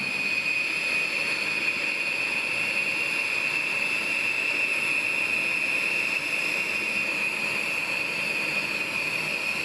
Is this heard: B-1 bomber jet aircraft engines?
yes